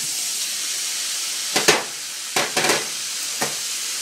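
Salmon tossed into a pan of thawed peas, with a steady frying hiss and several sharp sizzling bursts as the pieces land and get stirred.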